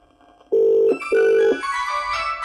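An incoming call sets off a phone's ringtone, which starts with two loud, even electronic beeps and then moves into a brighter, denser melodic tone, close and clear with no voices over it.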